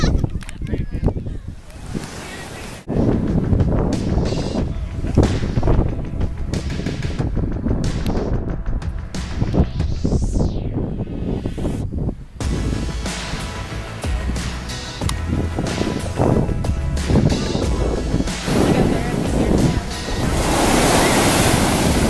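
Summer beach with surf breaking and wind gusting across the microphone, a steady loud wash of noise that jumps in level at a couple of abrupt cuts.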